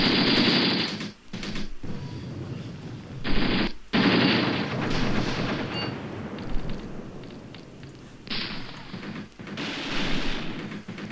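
Machine gun and rifle fire from the Graviteam Tactics battle game, set in the Soviet-Afghan War, comes in loud, rattling bursts broken by short pauses, with one burst following another through the whole stretch.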